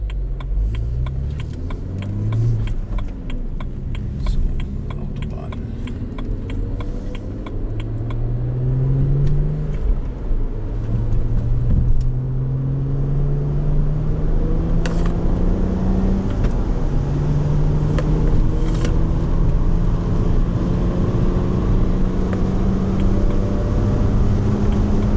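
A BMW E93 330 six-cylinder engine revs smoothly while driving, its note climbing through the gears in repeated rising sweeps with brief shift pauses, heard steadily from inside the car without talking.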